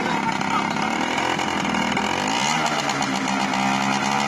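A 1999 SYM Jet 50cc scooter's small two-stroke engine revs hard in a loud, buzzy, continuous whine that rises and wavers in pitch, with a person talking over it.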